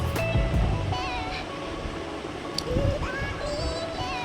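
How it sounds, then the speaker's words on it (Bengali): Whole garam masala and bay leaves sizzle loudly in hot mustard oil, producing a constant, dense hiss with faint tonal squeaks running through it. "তেল আমার গরম হয়ে গেছে এবার আমি গোটা গরম মশলা তেজপাতা ফোড়ন দিয়ে দেব"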